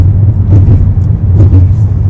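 Cars stuck in a long traffic jam on a Canadian road produce a close, loud, steady low engine rumble with slight surges. No clear voices are heard.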